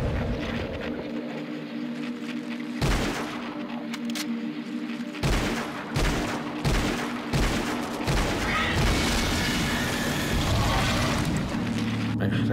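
Gunfire in the horror video game Silent Hill Origins on PSP: several loud, sharp gunshot blasts spaced a second or two apart, ringing out over a dense, noisy game soundtrack with rumbling ambience throughout.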